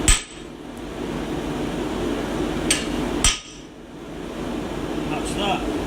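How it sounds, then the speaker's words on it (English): Steady hammer blows drive a large chisel into hot metal, cutting a mane on a forged horse-head bottle opener in a blacksmith's workshop; a few sharp strikes ring out close over a constant background roar. "We're going to give him a bit of a mane with a bigger chisel"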